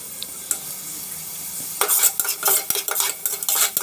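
Soaked chana dal with curry leaves is sautéed in a pan: a quiet low simmer at first, then bursts of sizzling and scraping as a spoon stirs and clinks against the metal, in uneven, repeated strokes.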